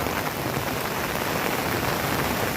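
A torrential downpour pounds down in Gir, a dense, loud, unbroken hiss of rain hitting the ground and surfaces all around, close and steady with no letup.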